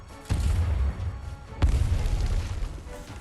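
Heavy artillery barrage from urban defense cannons in the Arknights video game: two deep booming blasts a little over a second apart, each followed by a rumbling roar that rolls on at close range.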